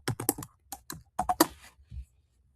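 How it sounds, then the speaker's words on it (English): Typing on a computer keyboard, a close, quick run of irregular key clicks in small clusters, ending with a last isolated tap. "Sorry about my typing."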